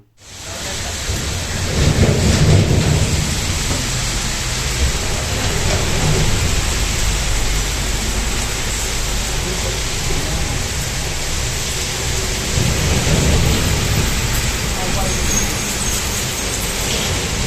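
Heavy rain roars steadily, close and loud, while deep rolls of thunder rumble through it, with one swell near the start and another later on, and no voices.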